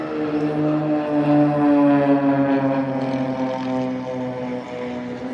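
Propeller aerobatic display aircraft of the Blades team fly overhead at the Farnborough Airshow 2022, a sustained droning engine tone that swells and fades slightly as it passes, loud and steady throughout.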